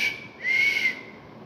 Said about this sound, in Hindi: चूहे ने सीटी बजाकर एक टिड्डे को पुकारा।